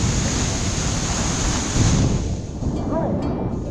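Ocean surf at a beach in Mexico, a loud continuous wash of breaking waves with wind buffeting the microphone, briefly easing near the end.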